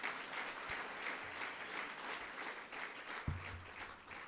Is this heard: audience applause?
yes